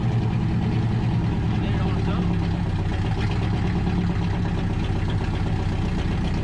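A Dodge truck's 440 V8 idles low and rough, a loud, steady, close-up rumble that holds without a break for several seconds, with no voices over it.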